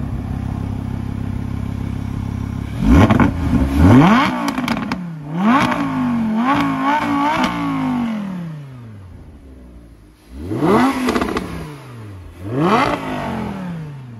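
An Audi R8 V10 idles with a deep rumble, then fires off several sharp revs into the rev limiter, each climbing steeply and falling back, loud and close, with a pause before two more bursts.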